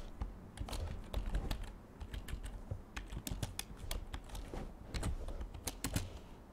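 Typing on a computer keyboard: close, quiet key clicks in an irregular, continuous patter, with no voice over it.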